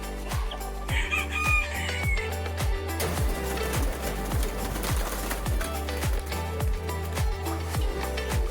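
Chickens at Ibrahim farms in Trichy crow and cluck close by, a loud crow rising early over a steady rhythm of repeated clucks and low farmyard noise.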